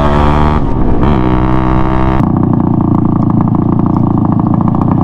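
A loud two-stroke motorcycle engine, a Suzuki X4 or Raider 150 with a fallen-off exhaust part, revs and then settles into a harsh, rattly, sustained drone. It is very close and dominant throughout.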